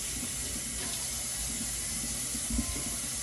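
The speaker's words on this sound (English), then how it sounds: "Make sure you rinse everything that you use off." Kitchen tap water runs steadily as utensils are rinsed after making seasoning, a close and continuous splashing stream with light clinks of items under the flow.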